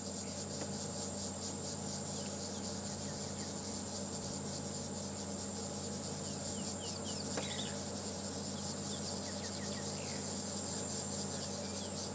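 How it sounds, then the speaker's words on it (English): Small insects, likely crickets, call loudly and continuously on a morning safari drive in the South African bush, a dense steady trilling chorus with faint bird calls scattered through it and no talking. "it really is incredible the amounts of noise these small insects generate"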